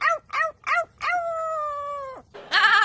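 A parrot imitates a dog: three short bark-like yelps, then one long sustained howl that slides down and stops, followed by a brief harsh squawk, close and loud with nobody talking.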